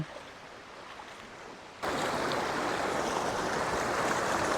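A river flows along its course, a faint wash at first that suddenly swells into a loud, steady rush of water and splashing filling the rest of the stretch.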